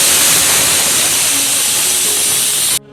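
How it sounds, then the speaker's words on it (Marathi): A pressure cooker cooking Konkan-style jackfruit phus bhaji lets off its whistle as a loud, continuous rushing steam hiss right up close, which cuts off abruptly near the end. "हे बघा आता शिट्टी होते बघा."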